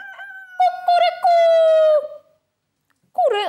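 A rooster crows in a long drawn-out call, loud and close, followed after a short pause by the start of another crow.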